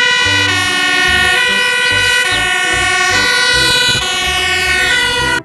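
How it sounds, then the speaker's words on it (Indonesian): A toy fire truck siren wails continuously with a bright electronic tone and stepped melodic pattern, loud and close throughout, cutting off abruptly at the end. "Wow, lihat mobil pemadam kebakaran."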